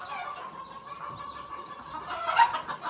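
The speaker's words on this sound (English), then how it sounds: "And then there's just another hen turkey." A hen turkey on a hobby farm clucking softly amid other poultry, with scattered faint calls and a sharper cluck near the end, heard at a modest distance.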